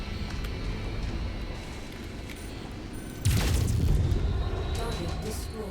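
Explosion as a target is destroyed in the MechWarrior 5 video game, a sudden loud blast partway through that cuts over the ongoing rumble of battle and then fades into a sustained roar.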